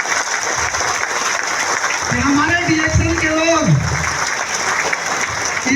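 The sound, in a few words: audience applause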